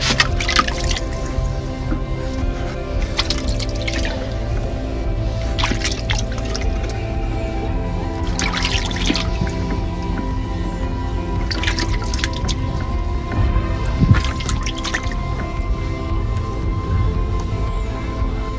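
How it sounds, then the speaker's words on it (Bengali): Water drips and trickles steadily from an adenium plant lifted out of a basin of fungicide-mixed water, with a run of close, distinct drops and splashes over a low background, and no talking. "এবার ওই গাছটিকে এই ফাঙ্গিসাইড মেশানো জলের মধ্যে দশ থেকে পনেরো মিনিট আমরা ডুবিয়ে"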